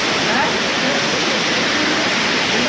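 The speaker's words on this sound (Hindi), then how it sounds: "बहुत बड़ा झरना है भाई" Kempty Falls in Mussoorie pours down in a loud, steady roar of rushing water, a dense continuous wash of spray and splashing with no breaks.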